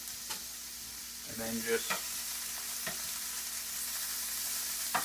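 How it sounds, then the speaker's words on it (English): Mushrooms sauté in a pan for a steak sandwich, a steady soft sizzle with a few stirring scrapes and clinks, while someone speaks briefly over the frying. "just cook up the mushrooms"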